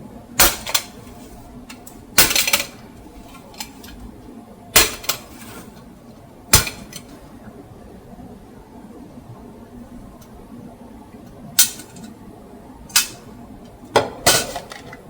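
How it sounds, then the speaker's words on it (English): A goat milking machine bucket has its lid unhinged, giving sharp metallic clanks and clicks in scattered bursts, some doubled, against a quiet room hum with no talking. "Next thing is unhinging the lid."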